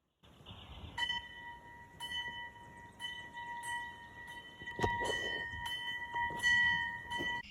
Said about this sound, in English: mounted the bell to its foundation and rang it for the first time